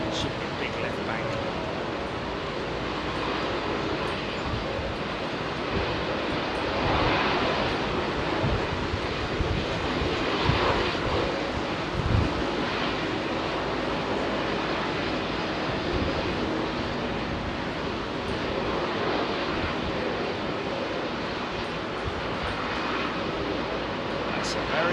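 An airliner departs runway 27R at London Heathrow, its jet engines a broad, sustained roar that swells gently and holds steady across the whole span, heard outdoors amid wind noise.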